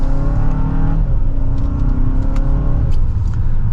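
A 2024 Hyundai Santa Fe Limited in sport mode pulls hard in second gear, its engine droning loudly and steadily from inside the cabin with rising revs and a brief shift about a second in.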